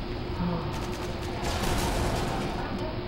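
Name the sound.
gunfire in Call of Duty Modern Warfare 2 video game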